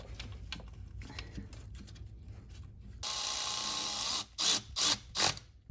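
A ratchet is tightening the belt tensioner pulley bolt on a BMW N54 engine, torqued to 40 newton meters. After quiet workshop rustling, a steady raspy clicking begins, then three or four short bursts of ratcheting strokes, close and fairly loud.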